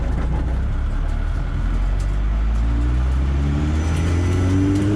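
A full race-spec car pulls away from a standstill, its engine note building steadily as it accelerates, loud and close throughout with a rising harmonic whine.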